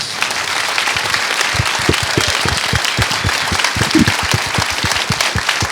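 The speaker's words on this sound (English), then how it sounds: "Can we first give them all a round of applause?" A festival audience at a documentary Q&A applauds the film's guests. The applause is loud and continuous, with many close, sharp individual hand claps standing out throughout.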